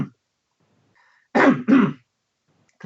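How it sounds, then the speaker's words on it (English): Two short, rough throat clearings in quick succession, close and distinct against near silence, with a faint brief sound just before and another starting at the very end. "What is this throat clearing nonsense?"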